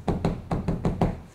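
A tightly stretched artist canvas is knocked about six times in a quick, uneven rhythm, each tap a hollow, drum-like thump, close and alone.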